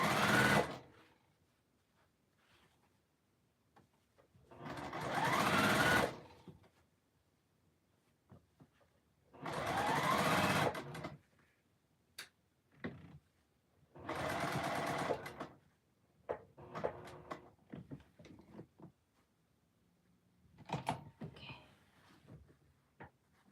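Sewing machine stitching a fabric binding, running fast in four roughly two-second bursts of steady whirring with quiet gaps, then shorter stop-start runs and small clicks near the end.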